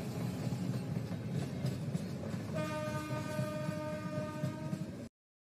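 A train rumbles past at a distance with a steady, faint broadband roar, then a long sustained horn sounds from about halfway through until the sound cuts off.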